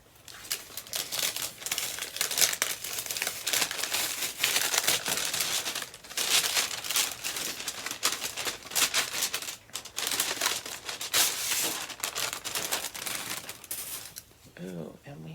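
Paper envelope being opened and handled, with continuous crinkling, rustling and tearing up close and fairly loud, and a voice briefly audible near the end.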